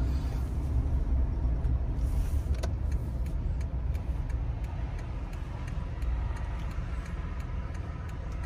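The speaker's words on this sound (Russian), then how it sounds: "Здесь больше машин проезжает." Cars roll past on a main street in a residential neighborhood in the USA, a steady broad traffic rumble with faint ticking, moderately close and with no voices.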